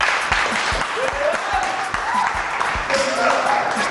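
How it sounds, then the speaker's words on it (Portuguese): A round of applause in a television studio greets a former basketball player. Steady crowd clapping fills the background with some distinct claps, while voices speak over it. "Uma salva de palmas."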